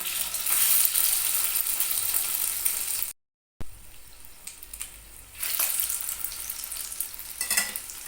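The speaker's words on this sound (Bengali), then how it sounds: "ডিমের ব্যাটারে ভালো করে চুবিয়ে নিচ্ছি পাউরুটির এক একটা স্লাইস দিয়ে দিচ্ছি তেলে" Egg-battered bread slices frying in hot oil in a pan, a steady close sizzle that briefly cuts out, then resumes with louder crackling bursts as more slices go in.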